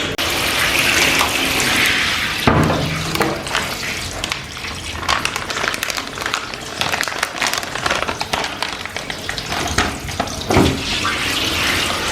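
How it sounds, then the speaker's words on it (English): Tap water running steadily while feet are rinsed after a foot mask treatment, a loud continuous splashing rush with occasional shifts and thumps as the flow hits skin and basin. "I'm going to be washing my feet, rinsing it off"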